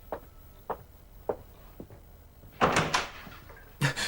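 A door opening as someone enters without knocking, preceded by a few soft footsteps, then a clattering handle-and-swing sound and a closing thump, fairly close in a quiet room.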